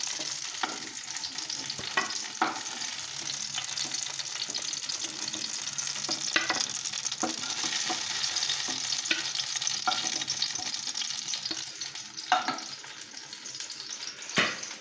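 Steady sizzle of frying in a small amount of oil in a pan while making Tamil brinjal gravy, with occasional stirring scrapes and clinks over a continuous hiss.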